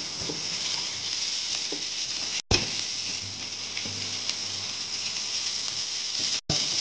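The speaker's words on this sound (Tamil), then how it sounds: "வெங்காயம் நல்லா ஃப்ரை ஆகுது" Onions frying in a pan of oil with urad dal while making a South Indian okra fry, a steady close sizzle and patter running throughout with no talk.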